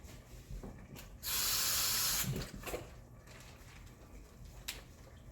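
Water swirled inside a glass jar to rinse out leftover tomato sauce while making minestrone soup, a loud steady sloshing rush lasting about a second up close, followed by fainter handling clatter.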